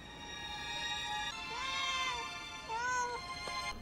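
Small black kitten in the film Batman Returns giving a few high, thin meows over a sustained musical score, the last cry rising sharply.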